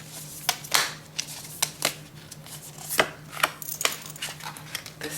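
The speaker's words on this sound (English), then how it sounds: "Let's shuffle the cards." A tarot deck being shuffled by hand, with a quick series of crisp slaps and riffles at uneven intervals, close and fairly quiet, with no speech.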